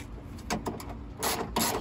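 Window regulator mechanism in a 1998-2002 Honda Accord coupe door being tightened, giving close mechanical clicks and ratcheting bursts in a short run.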